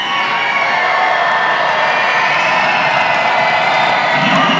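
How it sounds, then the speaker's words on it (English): Basketball crowd at a Saint John Mill Rats versus Moncton Miracles game, cheering and whooping in a steady, loud roar that holds without a break. "This crowd is pumped up."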